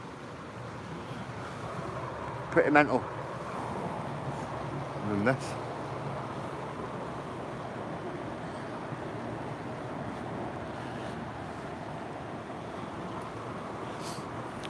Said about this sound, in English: there's a real big waterfall up there